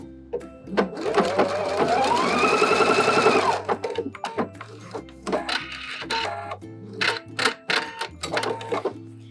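A sewing machine sews the side seam of high-waisted shorts, starting with a rapid whirring run that speeds up, then breaking into short stop-start bursts and ticking clicks at close range.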